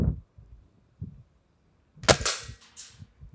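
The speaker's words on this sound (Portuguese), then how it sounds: "Vamos ver aqui se eu consigo dar um tiro mais centralizado." A single sharp shot from a scoped Rossi Dione 4G air rifle firing pellets cracks out, preceded by soft clicks and handling noises, then a few quiet knocks afterward.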